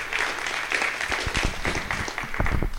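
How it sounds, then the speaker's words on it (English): An audience at a community meetup gives a brief round of applause, dense and steady clapping lasting a few seconds. "Give him a round of applause."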